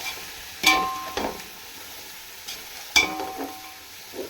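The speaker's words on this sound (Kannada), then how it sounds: "ಫ್ರೈ ಮಾಡಿ ಎಲ್ಲನೂ ಒಂದೊಂದು ಹಾಕಿ ಚೆನ್ನಾಗಿ ಫ್ರೈ ಆಗಬೇಕು." Mint and spices fry in oil for chicken dum biryani, a low sizzle punctuated by a few sharp clinks and scrapes of a spoon against the pan, close with no talk.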